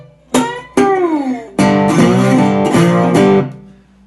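Slide guitar in open G tuning playing a short fill riff: bright plucked notes with gliding pitch bends, a couple of single attacks followed by strummed chords with sliding pitch, loud and close, fading at the end.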